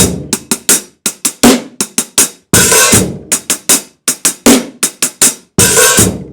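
A drum kit plays a repeating groove of sharp hits, kick, snare and cymbals in a steady pattern with crashes ringing out between phrases, close and loud with no talking.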